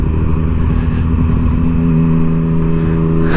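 A truck engine idles and revs in a steady, loud drone as the vehicle creeps forward on a rocky hillside road, low rumble constant with slight rises in pitch, no talking.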